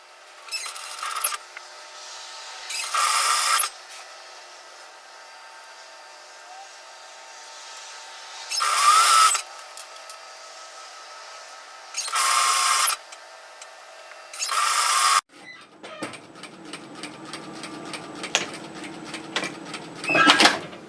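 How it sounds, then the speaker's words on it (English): A sewing machine stitches the hem of bib overalls in short bursts of fast, even whirring separated by quiet pauses, followed by softer handling and rustling noises. "now I'm going to turn and pivot and just stitch the hem in."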